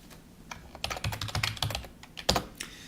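Keys on a computer keyboard tapped in a quick irregular burst of close, crisp clicks while a folder is named, with no voices.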